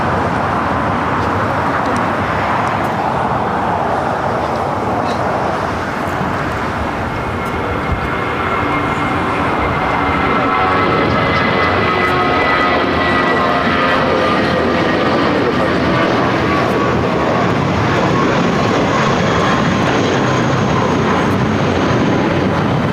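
A McDonnell Douglas MD-11 at LAX gives off a loud, sustained jet roar. A rising whine sweeps upward through the sound as the engines build, and the engine noise runs steadily throughout.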